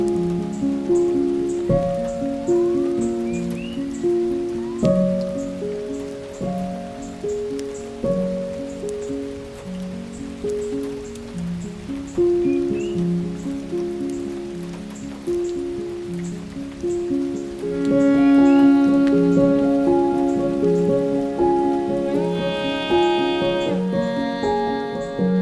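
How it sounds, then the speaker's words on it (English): Steady afternoon rain falls on the forest of Khao Yai National Park in Thailand, a continuous patter spread over the whole stretch, mixed with sustained tonal sounds. "Rain."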